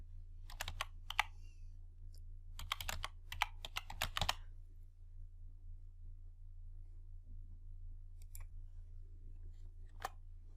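Keys on a computer keyboard are tapped in short quick bursts, entering a date into a spreadsheet cell, with quiet pauses between clusters of clicks over a steady low hum.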